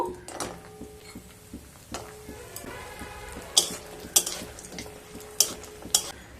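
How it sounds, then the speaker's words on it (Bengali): Lentil dumplings (bori) fry in hot mustard oil in a pan, giving a soft, steady sizzle broken by sharp clinks and scrapes of a utensil stirring close by. "তেলটা গরম হয়ে গেলে বড়িগুলো ভেজে নেব।"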